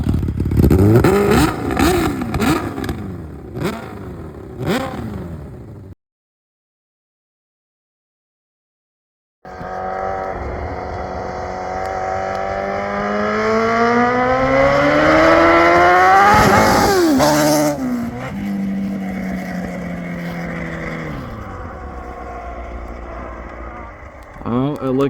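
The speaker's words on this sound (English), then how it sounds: "Me and John are going to do some proper ripping, break these in, see what these machines are all about" Dirt bikes ridden hard and revved loud and close, engines winding up through rising and falling pitch sweeps, with a sudden break into silence before a long, climbing roar resumes and someone talks over parts of it.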